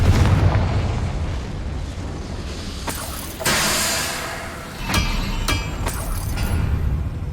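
Confringo spell blasts in Hogwarts Legacy, a few sharp fiery bursts and booms over a rumbling game soundscape, with brief clinks between impacts.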